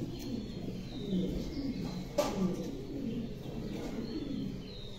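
A male Mundi pigeon coos in low, soft, rolling phrases, repeated a few times against faint background noise with light chirps from other birds nearby.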